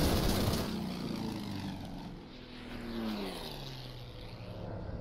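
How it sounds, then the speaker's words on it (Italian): A propeller aircraft drones steadily overhead in the Order of Battle: Sandstorm war game, a continuous engine hum with a slowly shifting pitch that swells and dips a little, heard alone without talk. "Oh, un altro aereo."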